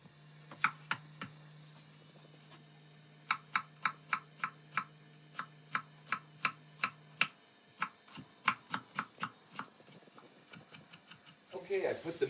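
A knife cuts through cabbage with about twenty crisp, close chops in a steady rhythm, pausing briefly before a final flurry of rustling, over a faint background hum.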